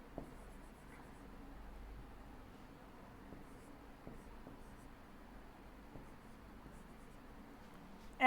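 Chalk or marker scratching across a classroom board during a physics lesson, a quiet run of small strokes and taps, close but soft, with a faint whisper-like murmur beneath.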